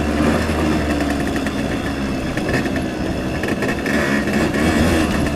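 Small 1975 Suzuki RV-90 motorcycle engine running steadily close by, a continuous buzzing drone with a slight rough texture throughout.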